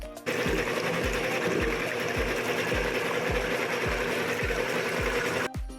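A grinder works glutinous rice with added water, making a steady close mechanical whir with a regular rhythm of dull knocks about three per second. The sound cuts off abruptly at the end.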